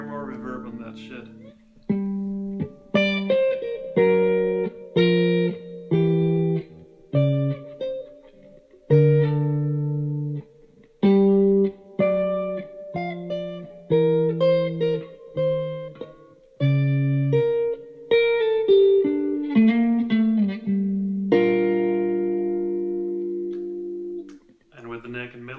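Clean electric guitar notes and chords, a 1982 Squier JV or Greco Super Power, ring out with a wash of reverb, played in separate phrases with brief pauses between them.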